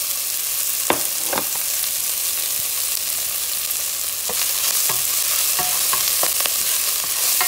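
A spoon stirs a simmering pot of beef sancocho just seasoned with oregano, giving a few scraping clinks over a steady sizzling hiss, close and moderately loud.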